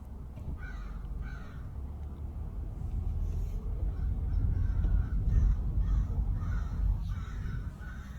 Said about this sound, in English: Driving to investigate all these crows just hanging out.